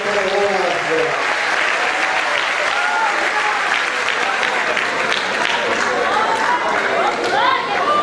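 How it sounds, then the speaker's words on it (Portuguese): A church congregation applauds in a sustained, dense burst of clapping, with voices talking and calling out over it throughout. "Senhor, nós aplaudimos o Senhor pela tua palavra."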